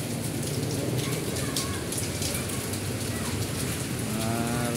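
A steady downpour drums loudly and continuously, thick with close spattering drops throughout.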